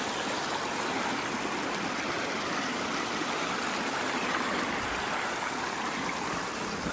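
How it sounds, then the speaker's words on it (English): A small mountain stream along the Appalachian Trail, swollen a little, rushes and burbles close by in a steady, unbroken wash of water with no voices. "we have our first stream of the day"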